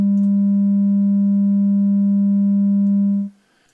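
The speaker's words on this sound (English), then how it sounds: "let's go ahead and turn on oscillator 2, and I'm going to go to 200 hertz here" A pure sine tone from oscillator 2 of the FM-4 synthesizer holds steady at 200 hertz, loud and clean, then cuts off abruptly near the end.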